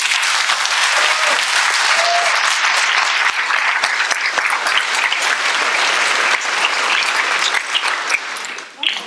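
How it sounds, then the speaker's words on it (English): Loud, sustained applause from a large graduation ceremony audience fills the whole stretch, dense and steady, tapering off briefly near the end. "let's have another round of applause for the graduates"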